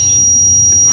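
A steady high-pitched electronic tone sounds continuously from the buzzer of an anti-theft alarm built with PIR motion and SW420 vibration sensors, loud and unbroken throughout.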